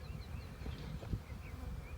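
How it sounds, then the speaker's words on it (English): Honey bees at a hive during a beekeeping lesson with a queen being run, producing a steady low buzzing drone at close range with faint higher whines drifting through. "Gonna get the bees going."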